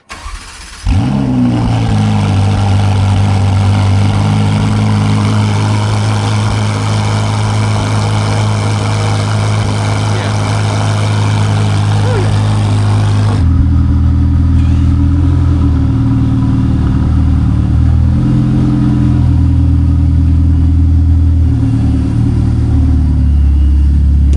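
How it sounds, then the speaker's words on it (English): A Ferrari 488 Pista fires up from cold with a sharp starter catch and loud flare, then settles into a deep, steady high idle. Around thirteen seconds the idle drops lower and keeps a rumbling, slightly uneven beat, close and loud without talk. "All right, we'll get you the cold start of the Pista."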